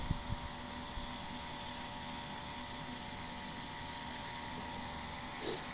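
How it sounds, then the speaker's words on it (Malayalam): An electric pump pushes water through an automatic drip irrigation line for potted plants, giving a faint, steady watery hiss and hum with no talking. "ശരിക്കും ഇങ്ങനെ നല്ല സ്പ്രിങ്ക്ലർ പോലെ തന്നെ വെള്ളം വരും അത്രയും ഫോഴ്സിലാണത് അത് അതിൽ നിന്ന് അടിക്കുന്നത് ആ പമ്പ്"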